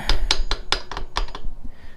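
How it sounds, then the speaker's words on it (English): A hammer lightly taps a stuck metal part on a Razor SX-500 build, several light, sharp taps in quick succession, close by, each a short bright knock, trailing off toward the end. "We're just gonna lightly tap it around it"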